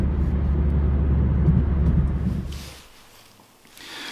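McLaren P14 car passing on a road in the UK, a loud low engine roar that fades away after a few seconds, leaving quieter ambient noise.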